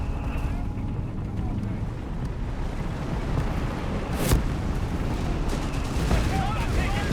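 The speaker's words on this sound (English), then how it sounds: "it does work quite well there with a massive mortar barrage" Massive mortar barrage in Company of Heroes 3, infantry pushing British positions on a hill: dense, continuous rumbling battle noise with a sharp loud blast near the middle and further thuds, under steady voice.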